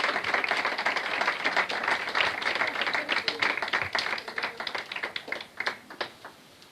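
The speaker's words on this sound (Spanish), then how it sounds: "Yo no sé si usted puede aplaudir a eso" A church congregation applauding, with many hands clapping at first, then thinning into scattered, distinct individual claps that fade away.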